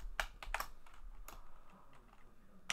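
A few scattered key presses clack on a computer keyboard, close and distinct, with quiet gaps between the short bursts.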